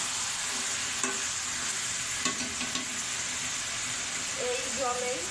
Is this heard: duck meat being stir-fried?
yes